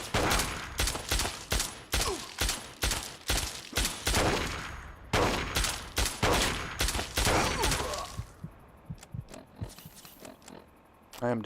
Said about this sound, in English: there's a guy with the .308 caliber rifle